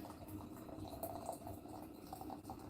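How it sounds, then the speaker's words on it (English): Boiling water pours from a kettle into a cup for tea, making a faint, continuous bubbling trickle with small splashy patters throughout. "You put your boiling water in there."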